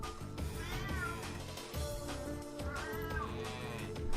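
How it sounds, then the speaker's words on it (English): A house cat meows repeatedly in the background, several drawn-out rising and falling calls spread across the stretch over steady indoor hum, with no talk. "now you can hear my other cat"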